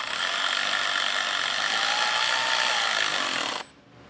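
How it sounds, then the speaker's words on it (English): Electric ratchet with an Allen key bit tightening bolts on a Solera RV slide-out awning on a 2016 Fleetwood Bounder, a steady close whir that runs about three and a half seconds and then cuts off abruptly. "I am using an electric ratchet, but I'm going really light with it"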